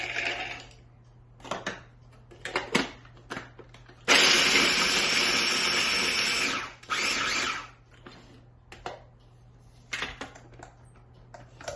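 A small electric food processor chops apples in one loud, steady whirring burst of a few seconds, bracketed by quieter clattering and handling noises, no talking.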